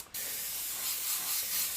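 An airbrush sprays thinned opaque paint in one continuous, close, bright hiss after a brief pause, steady throughout with slight swells, on a skull-and-gears artwork.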